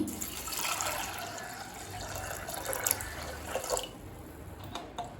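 Water runs steadily into a cooking pot of soaked toor dal for sambar, with a soft, continuous splashing and gurgle, fairly quiet, with a few drips near the end.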